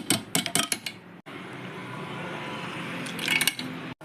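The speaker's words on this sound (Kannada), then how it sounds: "ಒಂದು ಐದಾರು ಐಸ್ ಕ್ಯೂಬ್ಸ್ ಹಾಕೋತಾ ಇದ್ದೀನಿ" Ice cubes drop into a mixer jar holding fruit and sugar for a cold drink. A quick cluster of sharp, hard clinks comes first, then a hushed room, then a few more clatters near the end.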